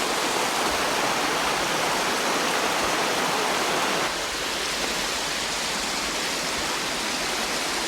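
A mountain creek rushes steadily with dense, broadband hiss. The flow sounds close and continuous, and its level drops slightly about halfway through, with no voices over it.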